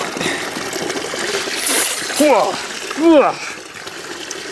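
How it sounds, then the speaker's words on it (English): Running water pours from a frost-free hydrant outdoors in bitter cold, a steady splashing rush under a voice and a dog's whine or two. "So we got running water here."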